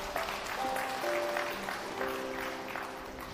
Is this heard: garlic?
no